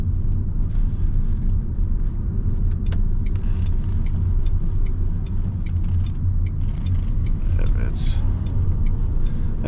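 A Renault Kangoo E-Tech 120 hp electric van drives along a road, its low steady rolling rumble and tyre noise continuous and close throughout, with someone talking over it.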